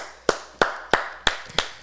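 Someone claps their hands six times at a steady, even rhythm, each clap sharp and close with a short decay and quiet gaps between.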